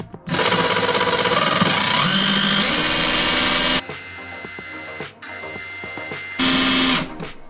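A power drill bores into bathroom tile in loud, whining bursts. A long run shifts in pitch, then breaks off into shorter spurts with brief pauses between them.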